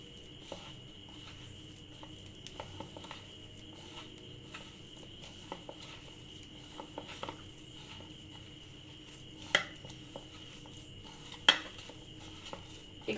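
Snack ingredients are mixed gently with cornflour in a bowl, giving quiet, scattered scraping and clinking of a utensil against the dish, with a few sharper knocks near the end over a faint steady hum.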